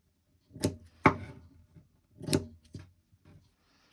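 Scissors snipping through fabric tags, four or five crisp, close cuts in an uneven rhythm with quiet pauses between them.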